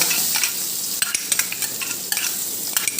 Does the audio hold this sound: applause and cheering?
no